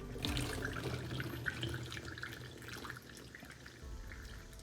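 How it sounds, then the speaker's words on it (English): Tap water running steadily into a plastic bottle being filled to water a lawn, a close, continuous gurgling rush with no talking over it. "fill your bottle up."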